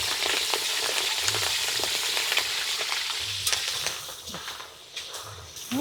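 Steady crackling sizzle of quail eggs frying in hot oil, with a few clinks of stirring and scraping in the pan, fading slightly toward the end.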